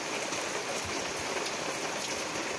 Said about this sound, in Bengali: এতটা পরিমাণে বৃষ্টি হচ্ছে